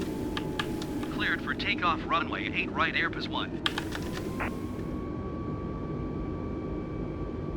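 An airplane takes off in Microsoft Flight Simulator on the Vancouver to Seattle route. A steady, broad engine roar runs throughout beneath someone talking, with faint keyboard or mouse clicks early on.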